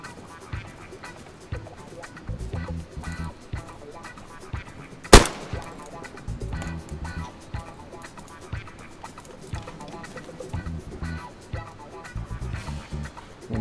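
A single sharp gunshot scoring a headshot in DayZ, loud and abrupt in the middle of the clip, standing out against background game noise and scattered voices.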